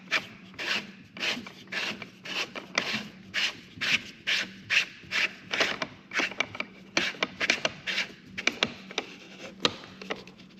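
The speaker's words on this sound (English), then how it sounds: "And we'll take our new Polycut spool and thread it on in the same spot." A new Polycut spool is threaded onto a string trimmer head, making a run of close, rhythmic rasping and rubbing strokes of plastic on plastic.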